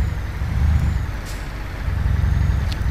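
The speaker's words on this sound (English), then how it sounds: "Look, it's a truck convoy." Heavy trucks rumble in a convoy in the Euro Truck Simulator game, a steady low engine drone with brief hissing air-brake bursts, loud and continuous with no talk.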